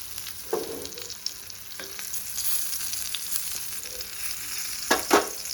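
Saundala fish fry in a hot pan with oil crackling steadily, a few louder pops and stirring scrapes standing out near the start and toward the end; no one speaks.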